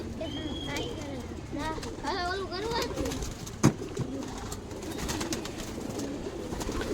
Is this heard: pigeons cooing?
yes